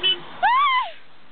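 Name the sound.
car horn honking on a street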